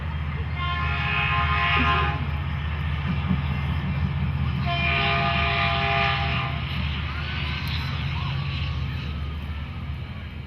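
A train passes near an outdoor high school graduation ceremony, sounding two long, loud horn blasts over a steady rumble of wheels and engine that fills the whole stretch.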